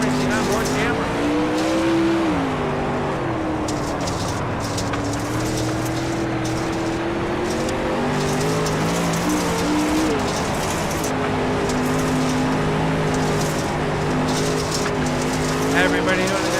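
Race car engines roar continuously in a sim racing video game, their pitch climbing and dropping through gear changes as the cars run close together, with a commentator talking over the top.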